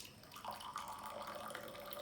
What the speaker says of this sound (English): I will add hot water like this.